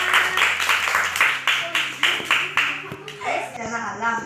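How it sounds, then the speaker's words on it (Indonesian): Children in a primary school classroom clap for a classmate's group, a run of quick, fairly loud claps that falter near the end as children's voices chatter over them. "Tepuk tangan kelompok Risma."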